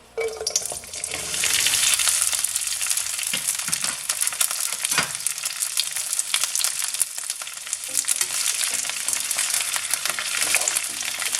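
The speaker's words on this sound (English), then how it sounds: "I'm just gonna add the okra now" Okra dropped into hot oil in a pan gives a loud, steady frying sizzle that swells within the first second or two and holds as a dense hiss with occasional crackles, with no voices.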